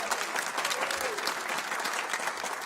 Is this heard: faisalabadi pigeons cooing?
no